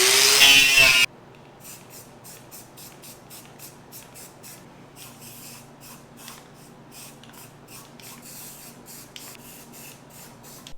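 An aerosol of rust prevention coating sprayed onto cleaned metal pieces for custom caster wheels: one loud hiss at the start, then a string of short, faint spray bursts or taps over quiet workshop background.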